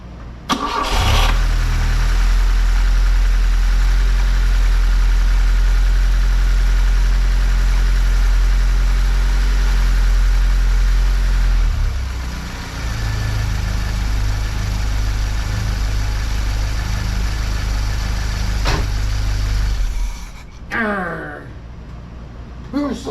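A Fiat 124 Spider 2000 engine cranks and catches after timing-belt work, then runs at a loud, steady idle. The engine note shifts partway through and it cuts out near the end, followed by brief talking.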